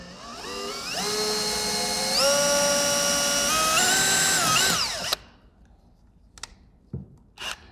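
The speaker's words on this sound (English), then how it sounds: "I'm going to start with basically a 1/8 inch pilot hole to get the thing going." A power drill bores a 1/8 inch pilot hole into composite at the rear of an Aston Martin DB9 during parking camera installation, a loud rising whine for about five seconds that stops abruptly, followed by a few faint clicks and handling sounds.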